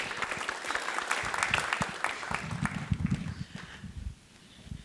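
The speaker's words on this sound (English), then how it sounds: "Give him a round of applause" Audience applause fills a room at an evening presentation, a dense wash of clapping that holds steady for several seconds and tapers near the end, with no talk over it.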